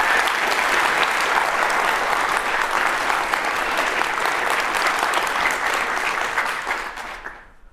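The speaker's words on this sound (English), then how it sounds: "So I think those two deserve their own round of applause for stepping in and making sure that happens." A conference audience at the MM22UK closing session gives dense, sustained applause for two people who stepped in at short notice, steady and full before fading away in the final second.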